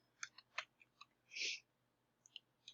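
A handful of computer keyboard keystrokes as the ifconfig command is typed into a terminal: sparse, quiet clicks in an uneven rhythm, with one longer, louder press partway through. No talking.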